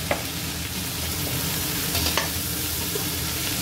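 Rice frying with salt in a pan for veg pulao sizzles steadily, with faint scraping as it is stirred, close and continuous with no voices.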